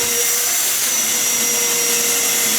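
A cyclone dust collector runs continuously after being switched on, a loud steady broadband suction roar with a faint whine, close and alone without talk.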